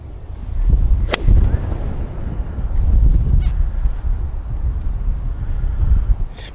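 Wind buffets a microphone outdoors on a golf practice range, a continuous low rumbling roar that rises and falls in gusts, loud and close, with a sharp click near the start.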